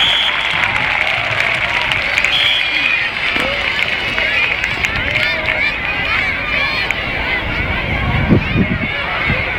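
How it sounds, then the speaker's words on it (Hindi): A crowd claps and cheers for army dogs about to perform at a demonstration, with busy applause mixed with voices and background hubbub throughout. "एक जोरदार तालियां आर्मी के बहादुर डॉग्स के लिए।"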